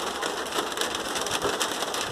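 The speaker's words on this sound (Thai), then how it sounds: "ฝนค่ะฝน" Steady rain falling in an orchard on an overcast day, a dense, even hiss of drops pattering on surfaces close by, continuous throughout with no voices.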